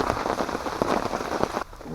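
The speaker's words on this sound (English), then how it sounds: "Rain stopped a little bit." Steady rain patters on surfaces around a wild campsite during a thunderstorm, a dense close hiss with scattered drop impacts that drops off sharply near the end.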